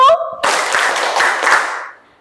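A group of dance students clapping on cue in a class, a loud rush of claps after a short tone, sustained for about a second and a half before fading out.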